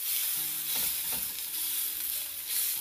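Lamb chops sizzle steadily in a hot pan, a constant bright frying hiss with a few scraping shuffles as the meat is shifted, no talking over it.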